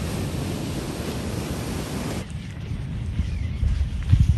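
Calm autumn surf rolls in at Sunset Beach. The smooth waves make a steady broadband wash that softens partway through, then swells again with wind buffeting the microphone near the end.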